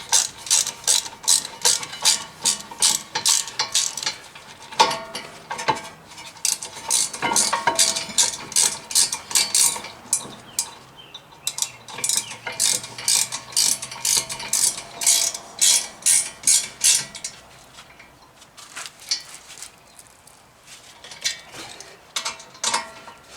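A ratchet clicks in quick rapid bursts while rear brake parts are bolted back together on a 2017 Ford Escape, the close metallic pawl ticking stopping and starting in short runs with brief pauses between.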